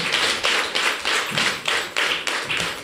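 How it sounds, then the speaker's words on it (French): Crowd applause at a political party gathering in Benin, a dense wash of many hands clapping with pulsing surges roughly every half second, steady and fairly loud, with no voices over it. "Ça s'applaudit."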